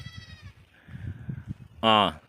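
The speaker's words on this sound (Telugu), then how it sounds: "దేవమ్మ ఎన్ని మేకలు సాగుతున్నావు ఇప్పటికి ఇరవై ఐదు ఉన్నాయి" A herd of twenty-five goats raised on scrub and barren hill land bleat on a farm: a faint call at the start, then one loud, close, wavering bleat near the end, over low murmuring voices.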